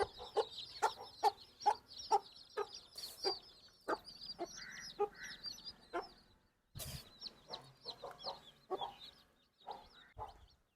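Native country chickens and newly hatched chicks in a coop, with a hen cackling and clucking in repeated short bursts and chicks peeping throughout, fairly close with brief pauses.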